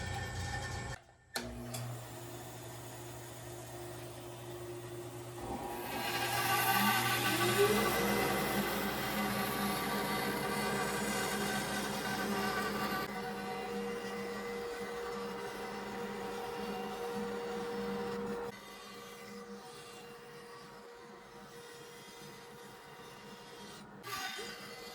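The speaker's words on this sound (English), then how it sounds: "So now we're going to cut the curves out on the bandsaw." A bandsaw cuts curves into the wooden parts of a one-step stool, a faint, steady motor hum with a rougher cutting rasp that swells for several seconds before easing back to the idling whir. No voices are heard.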